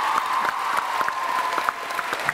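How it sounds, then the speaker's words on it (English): An audience at a TwitchCon panel bursts into sustained applause, a dense wash of clapping with scattered cheers, steady and full throughout. "can we give an almighty round of applause?"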